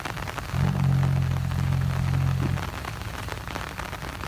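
Heavy rain pours down in a dense, steady hiss of drops hitting surfaces, with a low droning hum rising over it for a couple of seconds partway through.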